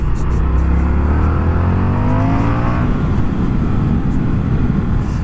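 Indian FTR 1200 motorcycle with its twin-cylinder engine running steadily and loud nearby, a rising rev sweep audible early on before settling into a constant rumble, with no talking.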